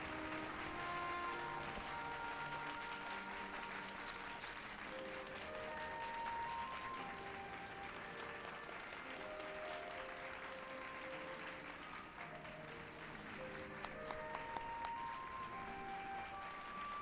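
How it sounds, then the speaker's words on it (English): Applause plays out in the video game Final Fantasy XIV, a steady wash of crowd clapping lasting throughout at moderate level, with game music tones layered underneath and a few sharper sounds near the end. "I gotta give the Xenos clap"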